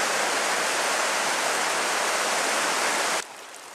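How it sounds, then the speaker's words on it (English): The White River rushes steadily beside a forest trail, a loud, dense broadband roar of flowing water that holds constant for several seconds before dropping off abruptly at the end. "Quick shot of the White River"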